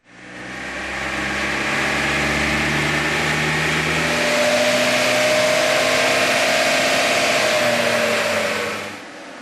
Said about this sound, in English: we're going to power up the 3 litre Patrol on the dyno